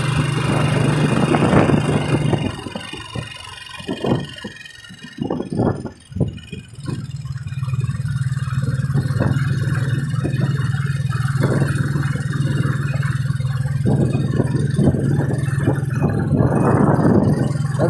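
A motorcycle engine drones steadily on a ride from Delpan to PGH Hospital in Manila, a continuous low hum with brief clattering bursts and a short lull partway through.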